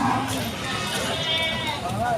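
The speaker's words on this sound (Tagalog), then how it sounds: "Malaking barakong kambing." A large buck goat bleats loudly close by at a goat market in Padre Garcia, Batangas, a single wavering cry over crowd chatter and background noise.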